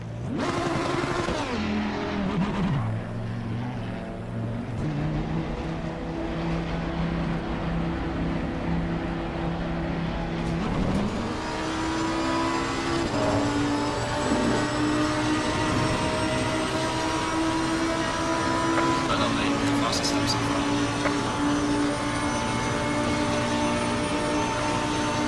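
Lamborghini race car in heavy rain in Assetto Corsa Competizione, a loud sustained engine roar with pitch dips and climbs through shifts and braking, continuous throughout with no voices.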